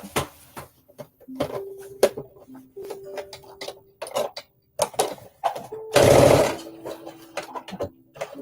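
A sewing machine stitching a dart in fabric for a jumpsuit, with short bursts of rapid needle clatter broken by pauses and clicks, then one longer loud run of stitching, close up.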